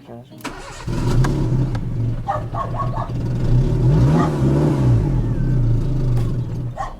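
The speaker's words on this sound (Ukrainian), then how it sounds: "Що, плавають оберти? Чого не заглохло?" A used car's engine idles unevenly, its revs rising and sagging as if close to stalling, a loud, close rumble that wavers throughout, with people talking over it.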